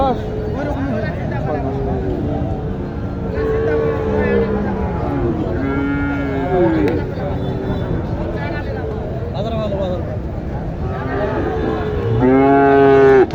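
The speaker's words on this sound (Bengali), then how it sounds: "এইখানে আসছে দেখেন এটা হচ্ছে মসিন ভাইয়ের গরু" Cattle lowing at a busy livestock market in Naogaon, with repeated long moos, some close and some farther off, over steady crowd chatter and people talking nearby.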